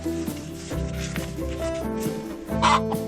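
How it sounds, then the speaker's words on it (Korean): A hen cackling after laying an egg, a repeated clucking call near and fairly loud, rising to a louder burst toward the end over steady rural background noise. "이것은 알을 낳고 난 뒤 암탉들이 내는 소리다"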